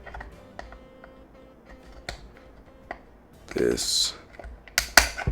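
A sharp pruning tool snips at a broken plastic clip on a bathroom light globe, giving a few crisp clicks and snaps near the end after quiet handling noises, with faint talk in the background.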